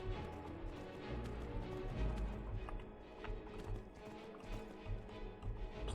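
Horse hooves clip-clopping in the video game Skyrim, a fast steady run of close thudding hoofbeats with irregular taps, loud and continuous without talk.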